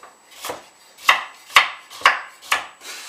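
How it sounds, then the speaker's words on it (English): A knife roughly chops carrots and coriander on a board in about five sharp, evenly spaced thuds, close and clear with no talk. "Don't have to be too fine, roughly chop it."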